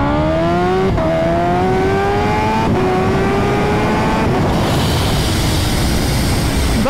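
A Kawasaki Ninja H2 motorcycle accelerates hard in first gear, its rising engine whine loud and continuous, breaking with a short gap at each shift and ending in a rushing roar with no talking.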